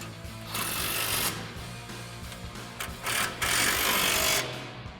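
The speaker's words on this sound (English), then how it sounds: "Now we'll grab our 15 millimeter socket on our impact and tighten down our tow hook bolts." An impact wrench with a 15 mm socket tightens the tow hook bolts on a replacement front bumper for a 2021-2023 Ford F-150. It gives two loud, rattling hammering bursts, close up.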